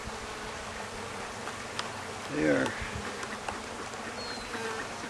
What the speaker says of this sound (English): I got this bee coming after me right now.